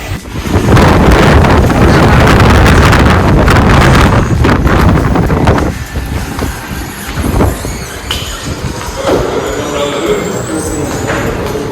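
Strong wind buffets the microphone with a loud, rumbling roar, easing somewhat midway into gusty rustling with a few thumps.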